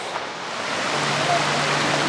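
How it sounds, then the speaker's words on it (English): Eagle Falls near Emerald Bay at Lake Tahoe: a steady, broad rush of falling water, fairly close and even in level throughout, with a faint low hum underneath. "there's a big waterfall right here"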